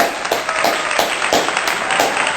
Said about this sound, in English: I'm going to give myself a round of applause for that.